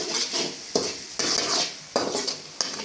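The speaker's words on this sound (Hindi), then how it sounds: "इसके कैसे भूनेंगे, ये देखिए" Masala with carom seeds, salt, black pepper and turmeric fries in oil for moong dal tadka, a close sizzle broken by several sharp spoon scrapes and clinks against the pan in a loose rhythm.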